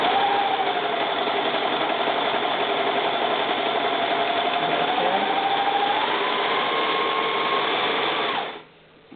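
A Brother 1043D serger test-sews a scrap of fabric with a steady, loud, continuous mechanical whir for about eight seconds before winding down to a stop.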